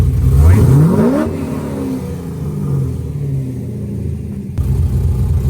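A Corvette engine revs hard in neutral, sweeping up sharply then falling back to a deep, loud rumbling idle before another burst, heard close up with no talking.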